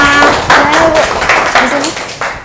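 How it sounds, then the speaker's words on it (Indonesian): A classroom breaks into applause for the first group, with several quick bursts of clapping close by and a voice over it. "Kita berikan tepuk tangan dulu kelompok pertama."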